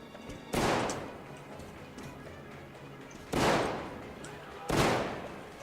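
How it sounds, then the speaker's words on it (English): Three heavy gunshots boom at spaced intervals in the shooter game Metro Exodus, each with a long rumbling tail, over quiet game ambience. "You're shooting in that direction, so you're over here, aren't you?"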